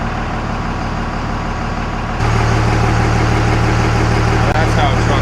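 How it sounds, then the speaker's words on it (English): A 2000 Dodge Ram 3500 dually pickup with a 24-valve Cummins diesel idles steadily up close, its low rumble stepping up in level partway through and then holding even. "Now that's how a truck should sound."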